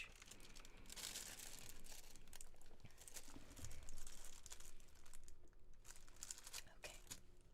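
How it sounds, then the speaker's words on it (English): Plastic packaging for a diamond painting kit crinkles softly and close up, irregular rustles and crackles coming in bursts at a quiet level. "I'm always scared that the crinkling is going to be a bit too noisy"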